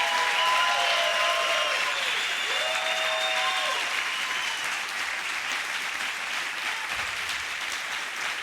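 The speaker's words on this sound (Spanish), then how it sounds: "dale un fuerte aplauso." A church congregation applauds loudly and steadily throughout, a dense continuous wash of clapping with a few whistles and cheers riding on top.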